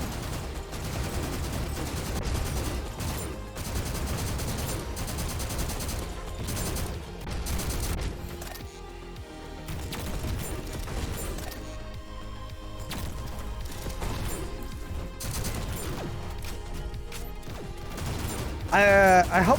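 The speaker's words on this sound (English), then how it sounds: "explosives suck in this game" Explosions and weapon fire in the fast shooter GTTOD: Get To The Orange Door, a dense, continuous clatter of blasts and bangs layered over loud game music, with no pauses.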